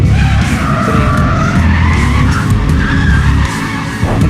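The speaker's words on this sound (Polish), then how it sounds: "Nie lubię dźwięk silnika." A race car in the Need For Speed World driving game growls loudly and steadily with tire squeal and skidding layered over the engine tone, continuous and close.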